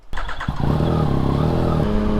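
A 2019 Yamaha MT-09 motorcycle fires up with a sharp start, then its engine settles into a steady, loud throaty rumble close by, with slight revving as it rides off.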